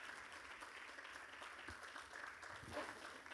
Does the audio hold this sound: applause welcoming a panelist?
yes